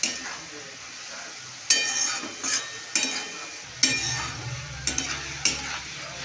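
Shredded potatoes frying in hot oil in a pan, with a steady sizzle and repeated stirring scrapes and clinks from a utensil against the pan, close and moderately loud.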